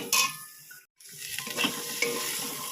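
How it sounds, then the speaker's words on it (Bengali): Green peas fry in a spice mix of turmeric and red chilli powder, sizzling steadily while a spoon stirs and scrapes the pan; the sound drops out for a brief moment. "হয়ে গেছে মশলাটা এবারে মটরশুঁটি দিয়ে ভাজবো"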